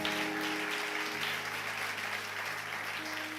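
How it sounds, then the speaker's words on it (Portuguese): Steady applause from a church congregation, moderately loud and continuous, with sustained organ or keyboard tones underneath. "Você pode aplaudir?"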